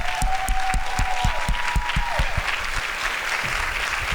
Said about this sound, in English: I'd like to give a big round of applause to Lorain High School.